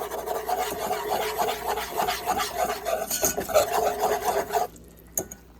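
A spoon stirs and scrapes a flour mixture in a pan for mac and cheese. The rasping strokes are steady, close and loud, then stop with one last knock.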